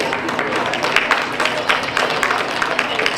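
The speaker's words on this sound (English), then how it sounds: "give a round of applause for this class" Audience claps in a sustained burst of applause for a class at a youth fair market goat show, a dense, even patter of many hands with crowd murmur underneath.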